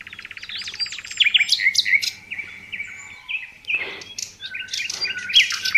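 Birds chirp and sing in a forest, a clear nearby warbling song of rapid trills and whistled phrases in bursts with short pauses, alone against quiet background.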